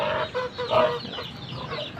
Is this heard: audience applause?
no